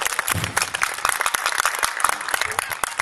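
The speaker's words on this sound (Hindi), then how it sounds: "वो तालियां बजाएंगे, जरूर बजाएंगे।" Audience applause at a Hindi kavi sammelan poetry recital, scattered clapping rising and falling in bursts over a murmuring crowd, moderately loud and fairly close.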